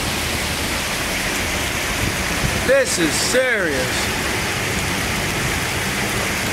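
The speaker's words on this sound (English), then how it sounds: "We got hail coming down." Hail storm coming down in Scranton, PA, with big golf-ball-sized chunks, a loud steady hissing roar of falling ice and water, with a voice speaking briefly over it.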